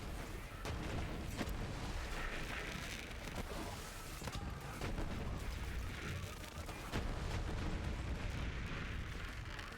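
Continuous rumbling explosions and booming blasts in Borderlands 3, dense and loud, with sharp cracks scattered through a steady roar.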